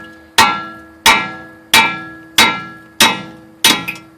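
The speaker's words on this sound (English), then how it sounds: "you can kind of tap them right at the very point with a hammer" A hammer taps six times at an even, steady rhythm, each blow a sharp, loud, ringing metal strike as it drives strut bolts out on a Saab.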